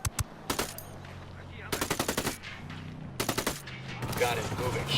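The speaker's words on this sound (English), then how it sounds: "Shots firing on the cartel." Automatic gunfire in the Ghost Recon Wildlands video game during a firefight with cartel soldiers: several sharp rapid bursts separated by brief pauses, loud and close over a low background hum.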